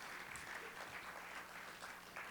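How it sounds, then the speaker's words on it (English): Faint, even applause from an audience at a driving safety summit, a quiet and distant wash of clapping with no voices standing out. "Everyone give a round of applause for Bill for putting up with me for the last few years."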